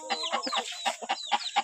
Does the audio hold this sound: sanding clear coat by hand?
no